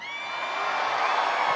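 A big crowd at a political rally in Des Moines, Iowa roars with cheers and whoops, a dense sustained wash of many voices building slightly louder over the moment.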